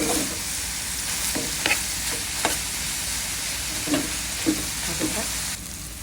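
Yardlong beans stir-fried in a pan, hotel style from Cox's Bazar, with a steady sizzle of frying and repeated scraping stirs of a spatula against the pan, close and fairly loud.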